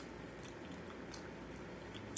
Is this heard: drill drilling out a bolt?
no